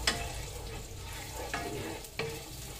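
Garlic is stirred in a pan of hot bacon fat, giving a soft steady sizzle with a few brief scraping strokes of the utensil, heard close but fairly quiet.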